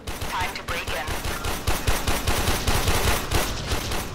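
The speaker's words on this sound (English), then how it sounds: "Because I can see that somebody's firing at us." Rapid automatic gunfire from a Warframe co-op sci-fi shooter match, dense bursts of shots rattling continuously for several seconds at close, loud range.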